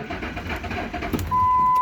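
An old Ford truck engine cranks at 31 below zero, a fast rough churning that turns into a steady loud whine near the end, with no voices.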